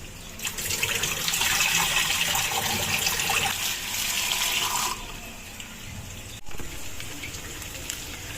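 Cut onion and green chili rinsed under a running tap, a steady loud gush of water into a sink for several seconds, then a brief break and lighter splashing, close by with no talk.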